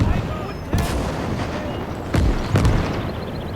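Aircraft strafing gunfire in the Gates of Hell strategy game: a few sharp loud bursts of shots with booming tails, spaced over a continuous battle rumble.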